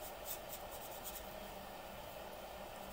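Pencil colouring on a card, a faint continuous scratchy rubbing with a few quicker strokes near the start, soft and close without speech.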